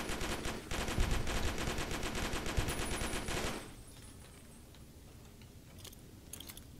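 Rapid video game weapon fire, dense bursts of gunshots in a shooter, loud and continuous for about three and a half seconds before cutting to a quieter background.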